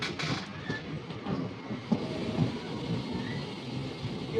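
A passenger train, the 13513 Asansol–Hatia express in Jharkhand, slows inside a 1.7 km rail tunnel, giving a continuous low rumble with faint wheel clatter and occasional thumps.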